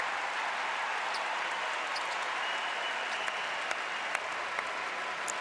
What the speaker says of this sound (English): getting a well-deserved round of applause from this North Carolina crowd